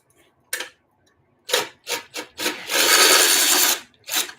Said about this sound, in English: So I'm just holding the bolt on the other side with a wrench.